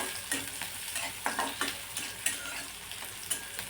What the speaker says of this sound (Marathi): आता हे परतून घ्यायचं आहे तेलावरती.